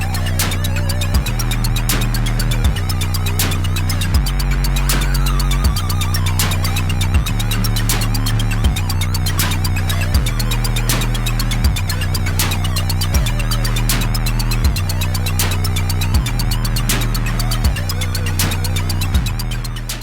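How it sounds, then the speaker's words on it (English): Lo-fi music made with the Artifacts AUv3 effects plugin used as a mini synth: a dense, loud, looping beat with sharp percussive hits, a repeating bass line and gritty textured layers, steady throughout. "what you just heard is music being produced with just an effects processor"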